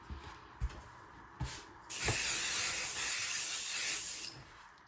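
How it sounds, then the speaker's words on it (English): A can of adhesive spray hisses in one continuous burst of about two and a half seconds, used to tack fabric for embroidery hooping. A few soft handling taps come before it, and no one talks. "I'm gonna get my spray."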